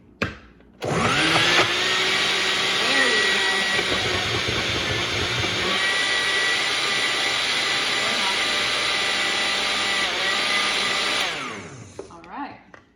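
A kitchen blender running with pineapple juice and drink ingredients makes a loud, continuous whirring roar for about ten seconds that starts abruptly, shifts pitch slightly partway through, then spins down, with faint talk around it.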